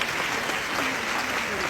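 Crowd applause with scattered cheering at a Côte d'Ivoire gathering honouring the president, marking the Africa Cup of Nations 2023 trophy; dense, steady clapping fills the short stretch at an even level.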